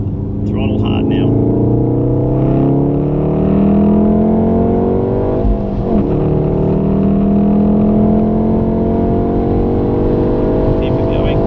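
A Volkswagen Golf R accelerating hard on a race track, its engine note climbing steadily through the revs with a brief dip at a gear change before rising again, loud and sustained under an instructor's voice.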